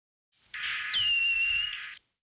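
A cotton-top tamarin gives a single long, high-pitched whistle call, rising briefly at the start and then holding a steady tone for over a second before stopping abruptly.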